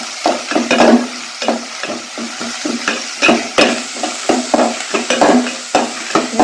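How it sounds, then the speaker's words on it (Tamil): Finely chopped onions sautéing in a pan with steady sizzling and frequent stirring scrapes, close and fairly loud throughout, no talking. "அதையும் ஆட் பண்ணிக்கிறேன் நல்லா வதக்கிக்கலாம்"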